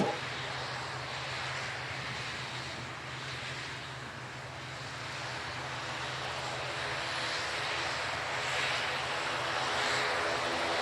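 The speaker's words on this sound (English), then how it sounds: "The ATR moving out onto the runway." An ATR turboprop airliner rolls out onto the runway at the Farnborough International Airshow, its engines and propellers giving a steady, distant droning whine that holds evenly throughout.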